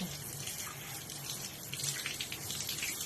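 Water from a shower sprays steadily as it rinses a dog during grooming, a soft continuous hiss at close range.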